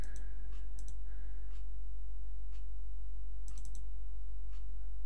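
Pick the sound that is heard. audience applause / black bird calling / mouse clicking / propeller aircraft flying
mouse clicking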